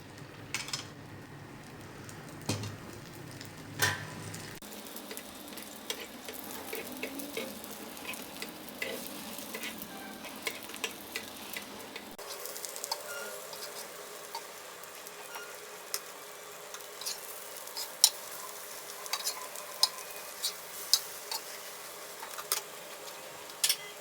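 Beaten eggs for a chicken fried rice omelette sizzle and crackle in hot oil in a pan, a steady frying hiss with scattered pops and occasional utensil clicks, and no talk over it.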